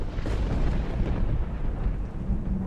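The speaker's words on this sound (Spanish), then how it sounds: "La lluvia empezó a arreciar, se había convertido en una tormenta." Deep, rolling thunder during a rainstorm by a lake, a loud sustained rumble with low, booming texture and a wash of rain-like noise, no voices.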